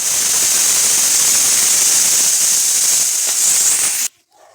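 A pressure cooker on a gas stove lets off a loud, steady steam whistle, a continuous high hiss for about four seconds that cuts off abruptly, with no talking.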